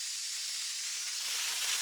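A pressure cooker on the stove, cooking aviyal, lets off a steady, loud, unbroken hiss of escaping steam that swells slightly toward the end.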